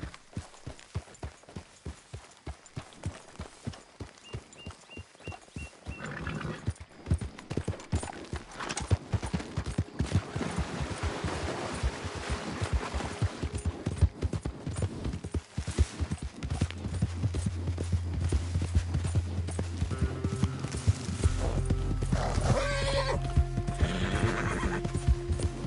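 Horse in a PS4 video game neighs and whinnies, then gallops with rapid rhythmic hoofbeats, loud and close, while game music and effects build underneath.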